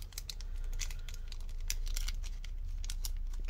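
Keys being pushed off an MSI GS63VR laptop keyboard, quiet close-up plastic clicks and crinkly snaps in an irregular run of sharp little bursts with no talking.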